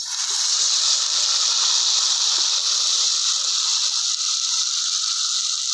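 Beetroot sizzling as it fries in hot oil, a steady loud hiss with a crackly texture running continuously throughout, no voices.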